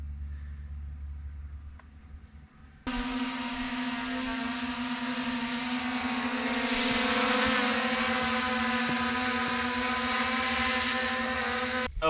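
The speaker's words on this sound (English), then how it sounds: "really like this drone" A Ruko F11PRO 2 camera drone starts up and flies, its loud steady high-pitched propeller whine kicking in abruptly after a quiet start and holding close and constant with slight swells.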